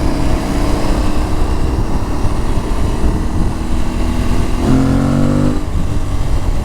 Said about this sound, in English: I'm kind of chugging it here, lugging and chugging.